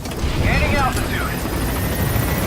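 A helicopter gaining altitude in Metal Gear Solid V: The Phantom Pain, with a steady rotor and engine drone throughout and a radio-style voice speaking over it.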